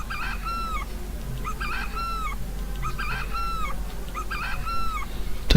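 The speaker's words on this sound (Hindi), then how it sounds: "तो बच्चों ये मुर्गे की आवाज है" Four repeated honking, crowing calls from a rooster come in a regular rhythm over a low steady background rumble, loud and fairly close.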